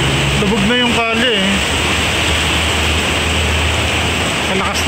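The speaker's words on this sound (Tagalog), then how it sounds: "Malakas ng ulan." Heavy rain pours down in Baguio City as a loud, steady, close hiss that fills the whole stretch; a voice briefly speaks underneath near the start.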